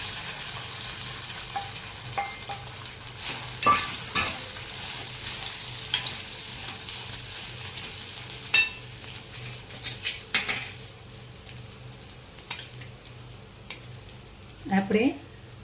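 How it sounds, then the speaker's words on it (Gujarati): Cumin seeds and sago pearls being stirred in a pan, with a quiet steady sizzle under metal scraping and clinks of a spoon against the pan, irregular and close, with occasional louder knocks. "જીરું આપણું તતળી જાય પછી આપણે સાબુદાણા હવે નાખીશું."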